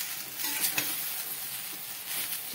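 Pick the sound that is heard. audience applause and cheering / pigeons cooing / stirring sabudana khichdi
stirring sabudana khichdi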